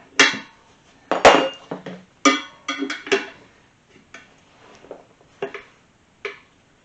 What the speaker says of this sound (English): I'm reverting to a much larger tire spoon because this tire is rock hard